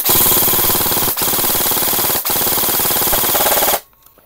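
An airsoft rifle rattles on full auto in loud, rapid continuous bursts, with two brief gaps before the firing stops abruptly near the end.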